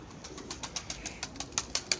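Pigeons flap their wings in repeated soft bursts as they fly, each flurry faint and papery, with the sharpest beats coming near the end.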